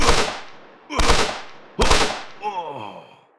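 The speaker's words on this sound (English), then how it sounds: "And let's go over and just shoot this guy" Three sharp gunshots from a GTA-style shooter game built in Godot, evenly spaced about a second apart, loud and close with quick decaying tails, followed by a brief pained cry from the character who was hit.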